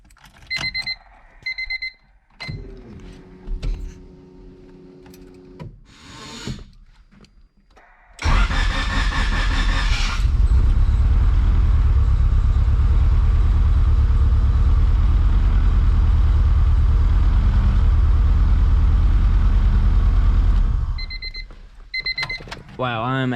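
A turbo D-series Honda engine with an upgraded fuel system cranks and fires after a few electronic chimes, then runs at a loud, steady idle for about twelve seconds before shutting off, with chimes sounding again at the end.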